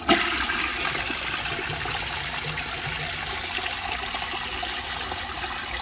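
An American Standard Cadet space saver toilet flushes with a sudden loud whoosh, then a steady rushing, gurgling drain of water that continues at nearly even strength for several seconds.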